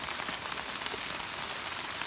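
Heavy rain pouring steadily onto a newly built thatched field hut roofed with cogon grass, a loud dense constant hiss with no talk.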